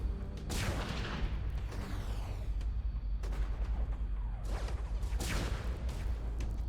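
Ship guns fire in bursts during a space pirate battle in the video game Astroforge: Space Pirates. Several sharp, booming shots ring out at about 0.5, 3.2 and 5.2 seconds over a steady, loud engine rumble.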